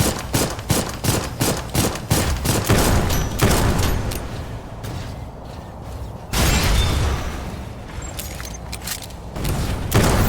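Sniper gunfire in the video game Dolls Nest, a rapid run of sharp loud shots with booming impacts, then a quieter stretch before further bursts of firing.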